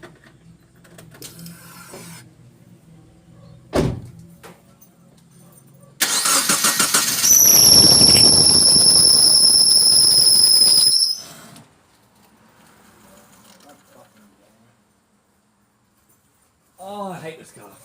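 A 1999 Subaru Liberty with an EJ251 engine and a faulty AC tensioner: the engine cranks and starts, and a loud, piercing belt squeal rises and holds for several seconds before cutting off. A person speaks briefly afterward.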